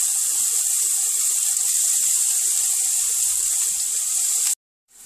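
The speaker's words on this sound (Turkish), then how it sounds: "Üzerine doğramış olduğum soğan ve biberi ekleyerek kavurmaya başladım." Chopped onion and pepper sautéing in oil in a frying pan, giving a steady, bright hiss that runs nearly five seconds before cutting off abruptly, with faint low bumps near the end.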